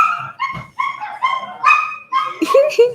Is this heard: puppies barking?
yes